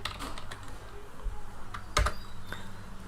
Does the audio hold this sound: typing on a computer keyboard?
yes